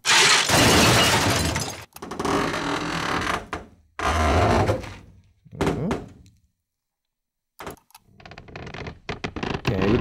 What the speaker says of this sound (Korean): 네, 부서지고 부딪히고 하는 소리들을 모아놨어요.